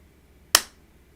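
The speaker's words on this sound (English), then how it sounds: "I'll do a little clap" A single sharp hand clap, made to sync a recording, sounds once, close and crisp, in an otherwise quiet room.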